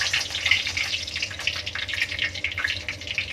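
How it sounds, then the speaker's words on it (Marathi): Curry leaves crackle in heated oil, tempering a masala for a fried bangda (Indian mackerel) curry; a steady bright hiss and spitting sizzle runs the whole time, close and fairly loud, with no voices. "आपलं तेल तापले आहे. आता आपण फोडणीसाठी कढीपत्ता टाकू"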